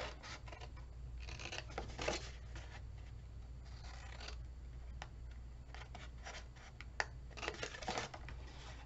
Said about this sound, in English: then we're going to cut down here